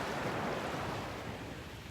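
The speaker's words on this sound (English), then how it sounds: "The waves are pulling them back and forth." Ocean surf washing in and out along the shore at Delnor-Wiggins beach, a steady broadband rush of waves with some wind noise, close and continuous throughout.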